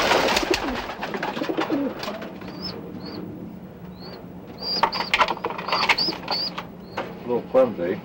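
A young pet bird called Daisy, about two weeks old, coos softly in short repeated calls close by, with a few higher chirps and light mechanical creaks around it.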